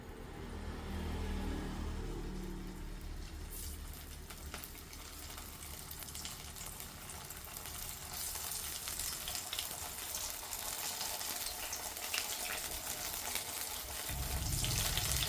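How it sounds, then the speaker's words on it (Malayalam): Large eggplant pieces fry in hot oil, a steady loud hiss and sizzle running throughout and swelling near the end as more pieces go in. "അപ്പം നമുക്ക് അതെങ്ങനെ വറുക്കുന്നത് നോക്കാം. ഞാൻ എണ്ണ ചൂടാകാൻ വെച്ചിട്ടുണ്ട്. എണ്ണ നന്നായിട്ട് ചൂടായിട്ടുണ്ട്."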